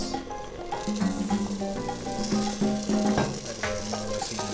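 Short grain rice stirred into sizzling paella with peppers, a steady fry crackle under soft scraping and stirring, with a tonal musical background running throughout.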